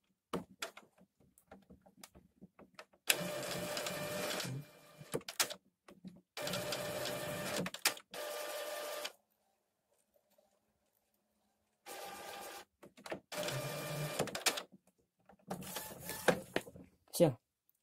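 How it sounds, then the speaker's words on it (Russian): An Epson L800 inkjet printer whirs in several bursts as the print head shuttles back and forth, with quiet pauses and small clicks between runs. "Когда принтер, вот эта головка сюда двигается"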